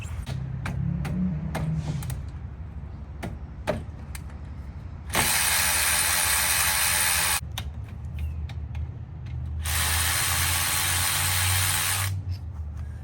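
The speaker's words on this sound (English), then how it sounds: "You can use any old ratchet. I prefer to use this." Ratchet clicking on a caliper bracket bolt during front brake service on a 1992-1996 Lexus ES300 or Toyota Camry, a run of close, sharp clicks mixed with two long hissing spray bursts.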